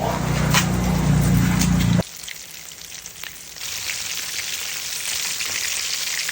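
Chicken fries in oil with a loud, dense sizzle for about two seconds, then a quieter, steady crackle with a few scattered pops.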